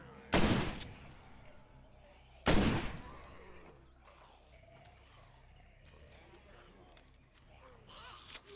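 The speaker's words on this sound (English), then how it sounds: "The shotgun, not my favorite, but it does have some kick behind it" Two heavy shotgun blasts from the State of Decay video game, each a sharp booming report with a short decaying tail, spaced about two seconds apart, followed by quieter ambient game noise.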